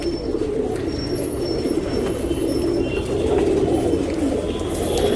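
Tournament pigeons in a Bangalore loft coo in a continuous low burble, several birds overlapping close by with faint chirps on top.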